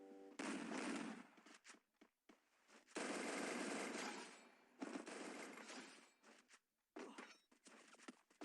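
Automatic gunfire from the Free Fire video game rattles out in several loud, dense bursts separated by short pauses, with a long sustained volley in the middle.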